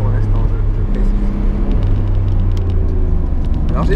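A car being driven, its steady engine rumble and road noise continuous throughout, with someone talking over it.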